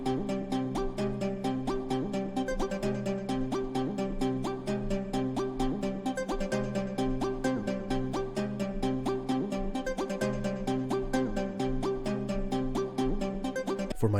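Dark hip-hop beat melody built in FL Studio with the stock EQ2, ping pong delay and reverb effects, playing steadily and loud with a regular pulsing rhythm throughout, no voices.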